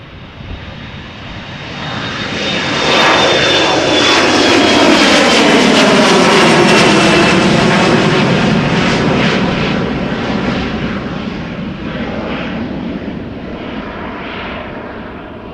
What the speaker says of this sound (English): short flight, small airplane